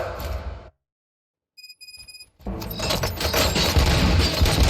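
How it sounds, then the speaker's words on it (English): Gunfire bursts in the video game RoboCop: Rogue City: a loud burst of shots cuts off, followed by a brief electronic beeping, then dense sustained gunfire and chaotic noise build up loud and continuous. "Gunshots? What's going on?"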